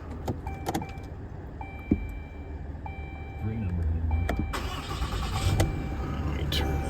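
A 2017 RAM 2500 with the 6.7 Cummins diesel cranks and fires up, its steady low idle rumbling on with a few clicks and chimes from inside the cab.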